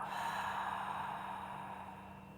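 A slow, controlled exhale during a yoga breathing exercise, a soft, close, breathy sigh lasting a couple of seconds over a faint steady hum.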